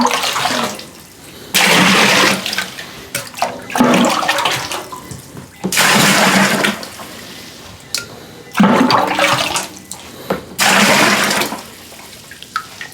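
Water at 80 degrees pours into a 5-gallon whiskey mash container in several separate gushing bursts, each a few seconds long and close by, with short quiet gaps between them.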